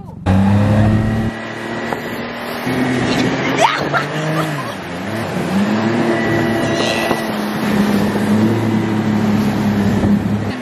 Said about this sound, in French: On peut te faire un tour de bateau à moteur.